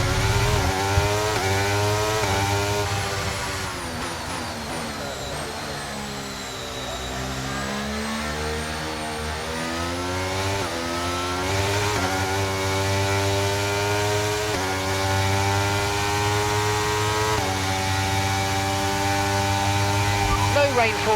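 Formula 1 car engine in the F1 23 video game at the Azerbaijan Grand Prix race start, loud sustained high revving with rising and falling pitch sweeps and gear shifts, continuous throughout, with radio voice talking over it.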